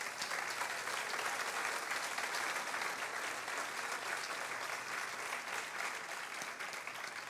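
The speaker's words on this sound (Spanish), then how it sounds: "Denle un aplauso al Señor" Church congregation applauding, a steady, dense wash of many hands clapping, faint and distant, unbroken from start to finish.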